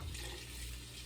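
Tap water running steadily into a sink while almond bits are rinsed out of cheesecloth after making almond milk, a faint continuous hiss with no voices.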